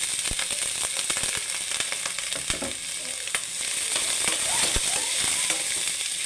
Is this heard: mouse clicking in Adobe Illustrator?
no